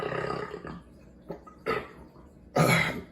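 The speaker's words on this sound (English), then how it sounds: "Typical IPA burp" A man gives several deep, throaty burps after drinking a highly carbonated IPA beer, short growling bursts spaced apart with the last one loudest, close and alone without talk.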